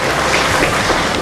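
Dense, steady audience applause at a school annual day prize distribution, a continuous broadband wash of many hands clapping at close range with no pauses.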